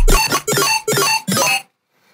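Bright, harmonically dense Serum synthesizer lead, the main sound of the electronic track, plays four sustained chord-like stabs in a steady rhythm, each about a third of a second long and separated by short gaps, then stops abruptly.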